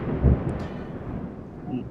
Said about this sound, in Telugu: వర్షం రానే వచ్చింది ఈసారి వర్షం చాలా తీవ్రంగా వచ్చింది